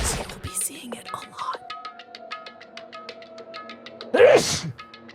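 A single short sneeze bursts out near the end over quiet game background music with rhythmic tones.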